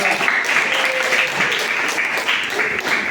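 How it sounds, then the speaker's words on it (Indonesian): A room of students applauds group 2 at a school presentation, with steady, dense clapping that holds at an even, loud level throughout. "Aplaus untuk kelompok"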